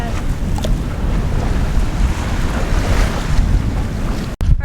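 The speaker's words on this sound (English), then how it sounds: "Alright, it's pretty windy." Strong wind roars steadily across the microphone on a sailboat running under jib and mainsail with no engine, mixed with rushing water and waves, loud and close throughout with a brief dropout near the end.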